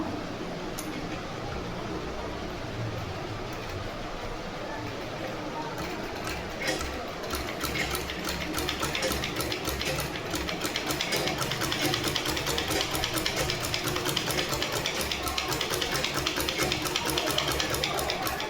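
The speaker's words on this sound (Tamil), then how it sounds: "இதை வந்து இப்படி ஸ்டிச் பண்ணி ஃபுல்லாக ஸ்டிச் பண்ணி எடுத்துடணும்" A sewing machine stitches a design on canvas, first a softer running whir, then a fast, even mechanical ticking chatter that grows louder and continues steadily, with a person talking over it.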